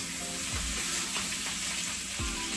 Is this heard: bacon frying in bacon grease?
yes